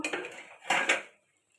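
A lid comes off a pot of braising chicken with brief metallic clinks and scrapes, two close clattering bursts before the sound fades to quiet.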